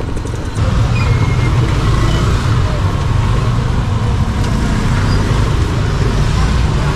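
Road traffic passing near a school area in the Philippines, a dense, continuous roar of engines and tyres at close range, loud and steady throughout with no talk.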